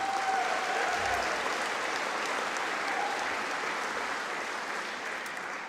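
Sustained applause from a graduation ceremony audience at Melbourne Polytechnic, cheering the graduates; steady dense clapping fills the hall for several seconds, slowly easing, with no speech.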